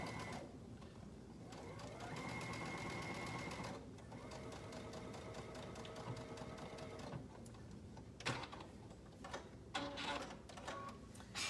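A sewing machine stitching pockets onto a shirt runs in long, steady buzzing bursts with brief pauses, then gives way to a few short runs and handling clicks, close and fairly quiet.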